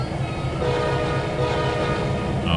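A locomotive horn blows in the Trainz 2022 railway simulator, a loud, steady tonal blast held throughout over a rumbling engine drone.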